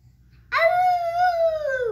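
A dog gives a single drawn-out howl that rises sharply and holds steady for over a second before tapering, standing clearly over a quiet background with no talking.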